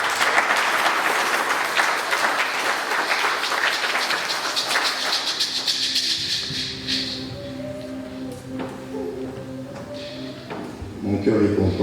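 A church congregation at a prophetic vigil retreat bursts into loud, sustained clapping and cheering that fills the room, then fades after several seconds as talking and lighter sounds take over.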